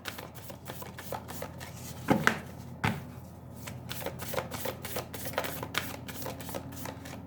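Tarot cards shuffled and drawn by hand, a run of quick papery riffles and flicks with a couple of sharper taps as cards are laid down, close and fairly quiet, no talking.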